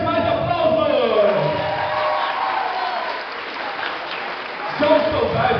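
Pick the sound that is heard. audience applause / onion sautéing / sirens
audience applause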